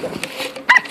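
A pug gives a single short, sharp bark near the end, after a few faint snuffles and small noises, heard close up.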